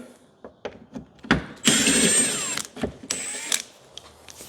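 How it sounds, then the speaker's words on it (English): Power tool spinning loosened tailgate bolts out of a Jeep Wrangler JL Rubicon, a few short bursts then a sustained whirring run with a rising whine, close and fairly loud, followed by another brief burst. "once those are all broken loose, you can grab something and go ahead and spin those out the rest of the way"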